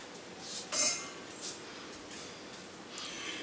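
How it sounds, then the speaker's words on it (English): A spoon stirring candy in a slow cooker, a few quiet metallic clinks and scrapes against the pot, one sharper knock, then soft intermittent stirring. "we're going to stir it one last time"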